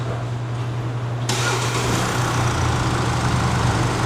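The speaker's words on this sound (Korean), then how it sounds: "자, 시동 걸고요." A Mercedes-Benz W213 E-Class with a no-start fault, its engine turning over and then settling into a steady idle, a broad rumbling drone that starts abruptly and holds close and loud.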